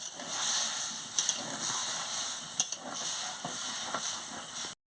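A steady loud hiss of water meeting hot oil in a pan of bitter gourd and potato curry, with a few sharp crackles, cutting off abruptly near the end.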